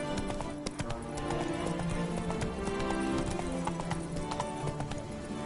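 Roach, Geralt's horse in The Witcher 3: Blood and Wine, gallops with steady, rapid clip-clop hoofbeats over a continuous bed of game music and ambience.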